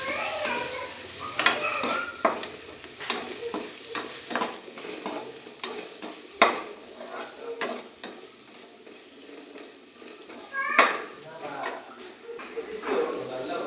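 A spatula stirs crab fry with spices in a pan, giving soft sizzling and scraping with repeated clinks against the metal. The sounds are fairly faint and come at an irregular rhythm.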